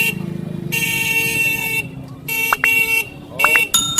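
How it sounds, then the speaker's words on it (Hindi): Vehicle horns honk repeatedly in busy Indian street traffic: several sustained blasts and short toots of varying length over engine rumble and passing motorcycles, with a voice talking in between. "देखिए हॉर्न देने के बाद भी आदमी जो है अपने धुन में चला जा रहा है।"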